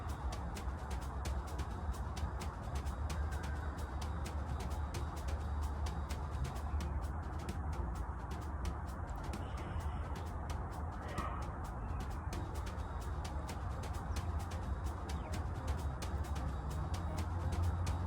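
Birds call as they fly overhead, faint and brief against a steady wash of background noise, with no one talking.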